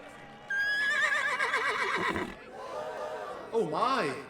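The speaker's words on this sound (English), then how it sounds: "Our Annabelle raced over to the men on Black Bart's horse" Radio-drama horse effect, with a loud, close, wavering whinny followed by a second shorter neigh, over a faint clatter of hooves. A voice also talks through the scene.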